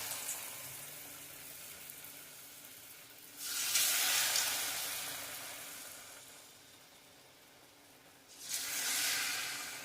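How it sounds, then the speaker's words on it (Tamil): Flour-coated dough balls deep-frying in hot oil, a steady bubbling sizzle that swells loudly twice as balls are dropped in, then settles back to a softer hiss. "பொரிச்சு எடுத்துடலாம்."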